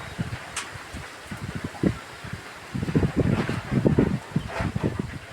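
Strong gusting wind ahead of a typhoon rustles leaves close by, a steady breathy roar that swells and tosses in bursts, loudest in the second half.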